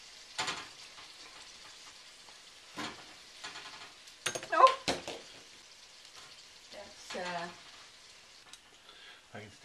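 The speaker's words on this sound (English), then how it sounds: "I can still hear them green beans cooking on the inside." Breaded green beans frying in hot oil, with scattered crackling sizzle bursts and bubbling that rise and fade at close range, separated by quieter gaps.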